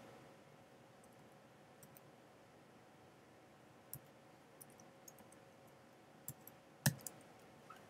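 Faint, sparse keystrokes on a computer keyboard, scattered soft clicks with a sharper tap near the end, against a quiet background hum.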